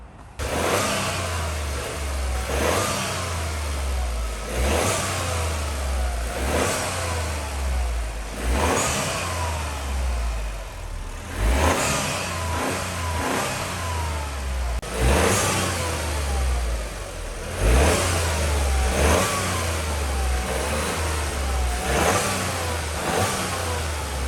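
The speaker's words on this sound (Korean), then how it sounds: "이제 흡기 소리를 한번 비교를 해보도록 하겠습니다" A Toyota GR Yaris engine fitted with an ARMA Speed carbon intake is revved repeatedly, each rev swelling into a loud roar then falling back to a low idle, close by and without talk.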